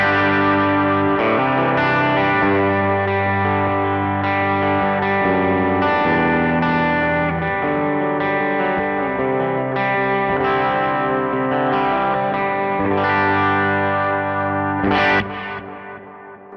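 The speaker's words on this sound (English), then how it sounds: "If I hit it once more, it's my ambient setting." An electric guitar plays through a pedalboard's ambient setting, its chords washed in long reverb and delay that ring and trail, sustained and loud, ending with a sharp strum.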